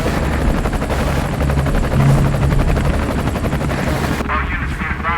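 A police helicopter flies over Pittsburgh's Fort Duquesne Bridge during a SWAT redeployment, its loud rotor beating in a fast, steady chop before the sound cuts off abruptly near the end.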